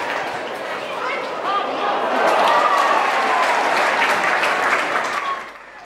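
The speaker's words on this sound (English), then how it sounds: "Hayden Ballantyne, who had the crowd in applause after this passage of play" Football crowd at an Australian rules intra-club match applauding a passage of play, a broad sustained wave of clapping and cheering that swells midway and then drops off sharply near the end, with some chatter mixed in.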